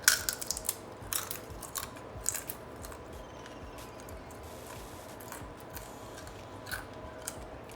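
Crunchy salted baked pumpkin chips being bitten and chewed up close, with crisp snapping crunches at the start and quieter intermittent chewing crackles after, no talk.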